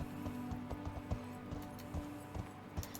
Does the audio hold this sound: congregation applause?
no